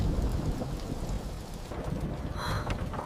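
Thunder from nearby lightning during heavy rain, a deep, loud rumble over a dense, steady hiss of downpour, with no talk.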